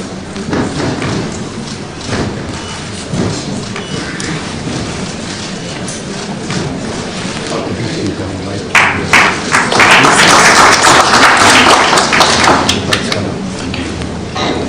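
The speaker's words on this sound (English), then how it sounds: "Let's have a round of applause." Applause from the audience at a government handover ceremony for a new Energy Cabinet Secretary in Kenya breaks out suddenly after a stretch of shuffling and low murmur, then builds into loud sustained clapping that fills the room.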